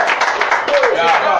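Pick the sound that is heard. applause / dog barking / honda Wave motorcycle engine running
applause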